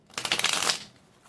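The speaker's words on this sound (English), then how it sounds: "Normally I don't have any trouble shuffling, especially these." A deck of tarot-style cards is shuffled in one quick riffling burst of about half a second, close and fairly soft, fading into quiet afterward.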